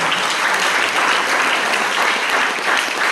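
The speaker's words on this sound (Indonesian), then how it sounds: "sekali lagi kita berikan tepuk tangan" Sustained applause from a large church congregation at a Christmas thanksgiving service, dense and loud, with steady clapping throughout and no voices on top.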